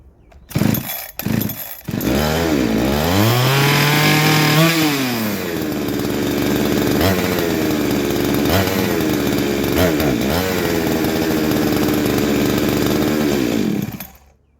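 A Husqvarna 372XP clone chainsaw sputters through a few short bursts, then catches and runs loudly and close, its two-stroke engine revving up and down before shutting off.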